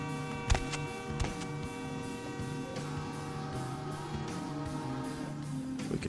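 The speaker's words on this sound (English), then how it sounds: "it sounds like this is just the music for the level." Level background music from the video game Vampire: The Masquerade - Bloodlines plays steadily at moderate volume, with sustained tonal layers and a few brief percussive hits near the start.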